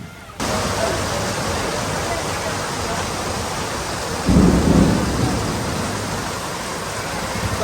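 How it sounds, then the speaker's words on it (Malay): Heavy rain pours in a dense, constant hiss outdoors at a safari park, with a deep rumble of thunder swelling midway before fading back into the downpour. "Dengan dah hujan ya"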